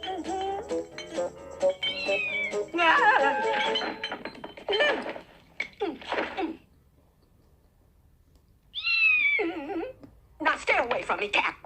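A cat meows repeatedly nearby, drawn-out rising and falling cries between and over a person's talk, with a quiet pause before a final pair of calls.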